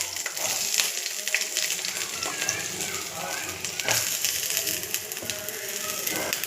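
Green chillies and onions frying in a pan for tomato egg curry give a steady, close sizzle with scattered crackles and pops running through the whole stretch.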